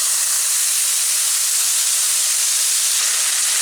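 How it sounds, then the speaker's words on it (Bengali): Mustard seeds, dried red chillies and a bay leaf tempering in hot oil, a loud, close, continuous hissing sizzle that holds steady for the whole moment without any voices. "সর্ষে, শুকনো লঙ্কা আর তেজপাতা আমি ফোড়নে দেবো"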